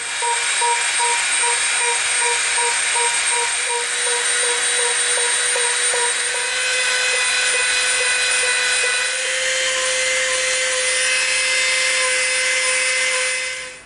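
A rotary tool fitted with a smooth bit whirs steadily against EVA foam, shaping a slug rifle prop, its high-pitched motor whine holding constant with slight pitch shifts as the bit bears down, loud and close throughout.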